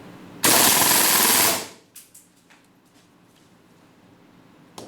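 A KSC VZ61 gas blowback airsoft gun fires one loud full-auto burst of about a second, fired with the short magazine, followed by a few sharp mechanical clicks and quiet.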